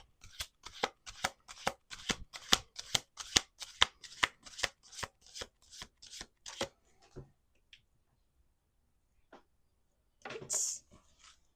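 Playing cards riffle-shuffled over and over in a quick, even rhythm of crisp bursts, followed by a pause and a final soft rustle.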